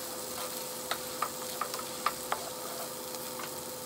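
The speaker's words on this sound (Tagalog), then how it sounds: "Basta na-fry mo na yung tofu." Tofu sizzles steadily in melted margarine in a pan, a faint, even frying hiss broken by small sharp pops and crackles at irregular moments, with no voices.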